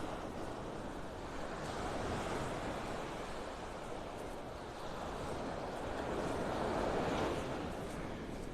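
Ocean waves wash steadily onto Vanderbilt Beach in North Naples, Florida, as the tide comes in, a continuous broad roar of surf with a slight swell near the end and some wind noise on the microphone.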